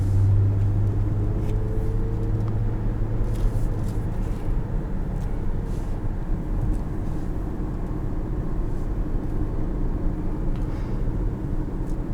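A 2006 Lexus RX330 on the road, its engine and tyre rumble a steady low drone throughout, with a brief lower hum early on and a continuous wash of road noise; no one speaks.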